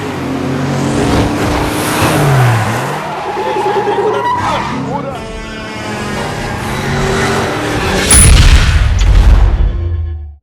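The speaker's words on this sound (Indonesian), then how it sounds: "Dan terjadilah aksi kejar-kejaran brutal di jalan raya." Cars tear through city streets in a brutal chase, engines revving loudly with squealing tires, skids and a heavy crash-like boom near the end, all close and intense with no talk.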